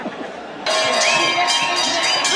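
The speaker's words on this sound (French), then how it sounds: "Vous avez ramené la cloche?" A handheld supporter's bell starts ringing steadily and loudly at a fondue-making contest, clanging on continuously after a quieter start, with crowd chatter and voices in the background.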